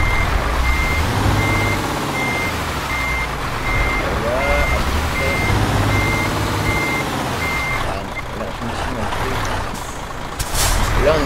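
Truck reversing beeps in Euro Truck Simulator 2: a steady, evenly spaced series of high electronic beeps over a low engine rumble, with a sharp air-brake hiss near the end.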